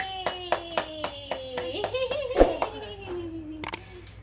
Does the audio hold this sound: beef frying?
no